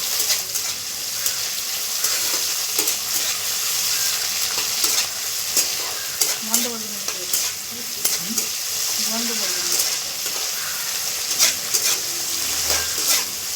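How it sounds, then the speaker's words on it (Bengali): Chopped tomatoes sizzle steadily in a pan with onions already fried red, a spoon stirring and scraping through them in irregular strokes over a constant hiss. "এর মধ্যে আমি দিয়ে দিলাম টমেটো কুচি। টমেটোটাও আমি একটু ভালো করে ভেজে নেব।"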